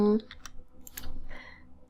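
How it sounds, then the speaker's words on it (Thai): A few soft, separate key clicks come from a computer keyboard as the Ctrl key is pressed while working in SketchUp. They are quiet and close, with a short voiced sound at the very start. "แล้วก็กดปุ่ม ctrl นะคะ ที่คีย์บอร์ดนะคะ"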